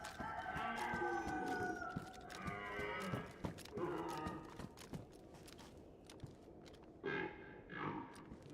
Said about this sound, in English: There's a chicken.